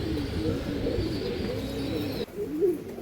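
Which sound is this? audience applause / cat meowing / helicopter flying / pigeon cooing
pigeon cooing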